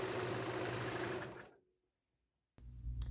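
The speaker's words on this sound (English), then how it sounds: "I like to use the serger to sew the sides because it cuts and sews the edges" A serger runs fast and loud, stitching and trimming the sides of a fabric pouch, then winds down into silence before starting up again sharply for a second burst.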